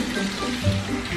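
Water runs steadily from a household tap during a child's tooth-brushing, a short, soft, unbroken splash.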